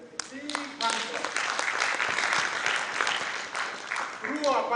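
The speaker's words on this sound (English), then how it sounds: "please help me to clap for them. A big hand clap." Assembly audience at an interreligious council meeting in Uganda gives council presidents a big hand, dense sustained clapping from a crowd filling the hall, with some voices mixed in near the start and end.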